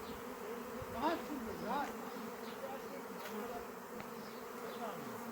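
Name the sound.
honey bee swarm buzzing on a quince tree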